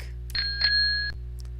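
A bicycle bell rings in a few bright, clear dings, the middle ring held longer, close and alone with no talk over it.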